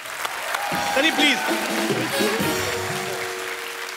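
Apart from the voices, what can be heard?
audience applause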